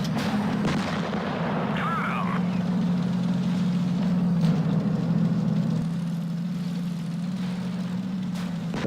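Tank cannon fire in the mobile game World of Tanks Blitz, a loud boom near the start over a steady low engine rumble that drones on through the whole stretch.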